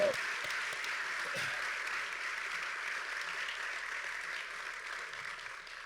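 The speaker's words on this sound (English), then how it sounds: "I would like to have a round of applause for our Parks Board" A crowd at a volunteer awards ceremony claps for the Parks Board, a soft, distant, steady patter of applause that fades slightly toward the end.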